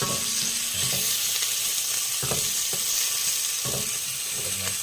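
Chicken skins fry in a pan to render oil for a classic chicken adobo, giving a constant close sizzle broken by a few soft stirring knocks.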